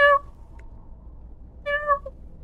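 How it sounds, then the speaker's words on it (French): A small ginger cat gives two short, clear meows, one at the start and another after a pause, close by against a quiet background. "Ah, un petit chat."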